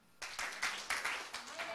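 A church congregation claps in short bursts, several broadband hand-clap clusters spaced across a brief moment, fairly close and lively, with no speech over them.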